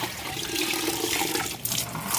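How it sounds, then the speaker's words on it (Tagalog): Water gushes steadily into the tub of a spin dryer under repair, a loud, continuous splashing rush that carries on without pause. "Lalagyan natin ng tubig."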